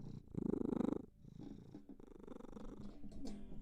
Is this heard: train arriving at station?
no